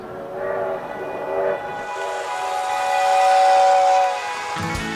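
A train at a railway exhibit in a collector's museum sounds a sustained steam whistle with steady tones over a low rumble, loud and with no voices.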